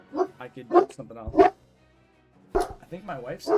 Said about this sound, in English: don't know if you could hear the dog in the background.